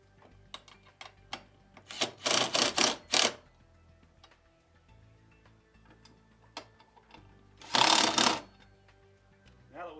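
Rear strut hardware being tightened on an MJ Precedent rear seat kit, heard as scattered small metallic clicks and ratcheting taps with two louder bursts of mechanical rattling, close and without talk.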